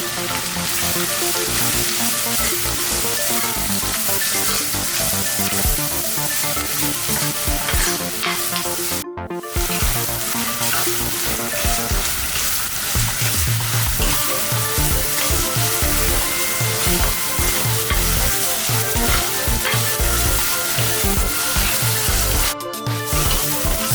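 Shallots sautéing with salt in a pan for Indian buffalo curry, a loud continuous sizzle with stirring scrapes throughout and two brief pauses.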